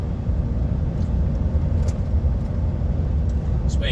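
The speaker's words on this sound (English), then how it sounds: "there's a green and white army truck just coming out down that road" Green and white army truck pulling out of a side road in the Scottish Highlands near Tain, a steady low engine rumble heard from a distance from inside a moving HGV cab, with no talking.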